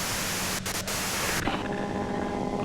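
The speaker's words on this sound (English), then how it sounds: "you can do it through the white noise." Dense hiss of white-noise static in the video game Disco Elysium, steady and loud throughout, briefly dipping and then narrowing to a thinner, humming static tone.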